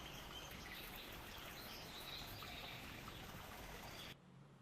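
Birds chirping in a jungle setting around a body of water, faint continuous twittering over a dense hiss, ending abruptly.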